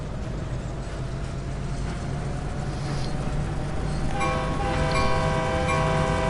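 A Caltrain MP15DC switcher locomotive in the Train Sim World video game slowly gets up to speed with a steady diesel rumble, and the engine note rises and gains harmonic whine near the end.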